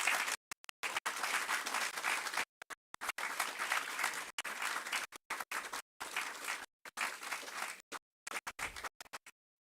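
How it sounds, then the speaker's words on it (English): Audience applause at a surgical education programme at a medical university, heard in choppy bursts broken by repeated silent gaps, moderately loud with no talk over it. "A huge round of applause, ladies and gentlemen."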